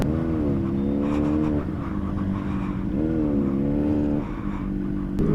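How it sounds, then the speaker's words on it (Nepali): A motorcycle engine revs for rev matching, with two sustained climbs in pitch separated by a drop back toward idle, close and loud throughout. "म चाहिँ अब रेभ म्याच हाल्न ट्राई गर्छु"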